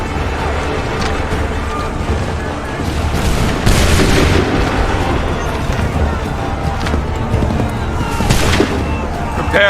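Musket volleys crack out in an Assassin's Creed 3 battle, loud booming bursts of massed gunfire over continuous rumbling noise, with two especially strong volleys standing out.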